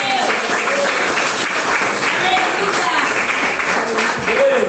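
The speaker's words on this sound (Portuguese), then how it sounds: "Pode se assentar e mais palmas glorificam o nome do Rei Jesus." A church congregation claps steadily throughout, a dense wash of applause from many hands with no pauses.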